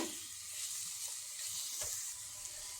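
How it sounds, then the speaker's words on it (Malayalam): Colocasia stem avial cooking in a pan gives a faint, steady sizzling hiss, with one or two soft stirring scrapes heard close by. "നമുക്കിതൊന്ന് ഇളക്കി കൊടുക്കാം"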